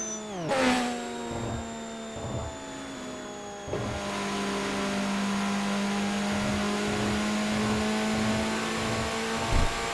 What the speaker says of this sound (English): The sound of a Toyota Chaser going full tilt on the one gun.